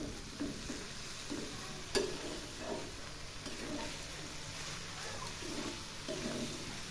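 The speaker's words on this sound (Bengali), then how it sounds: "আবার আমি নেড়ে দিচ্ছি।" Mixed vegetables with cumin and coriander powder are stirred in a pan, a soft continuous sizzle with occasional light scrapes and one sharp clink, fairly quiet and without voices.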